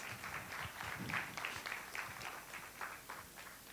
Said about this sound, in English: have a huge round of applause for sir and his entire team of students?